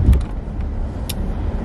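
A car rolls up to a detail shop for a wash, a steady low engine rumble from inside the cabin with a couple of faint brief clicks.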